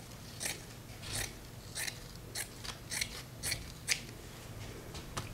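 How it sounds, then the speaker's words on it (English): Scissors snip fabric for a journal cover, trimming the bound edges in a steady run of about ten sharp, close cuts under faint room hiss. "definitely trim off any bound edges because we want the fabric to have the freedom to shape itself"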